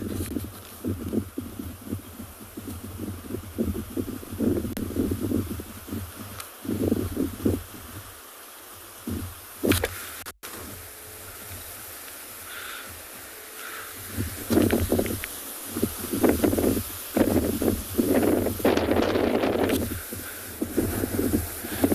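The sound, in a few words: gusty wind rustling grass and trees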